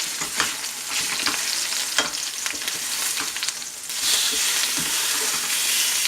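Pork chops fry in a pan alongside sauteing onions, apples and garlic, giving a steady close crackling sizzle that swells louder partway through, with no talking.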